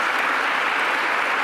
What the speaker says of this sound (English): let's just give all of you a round of applause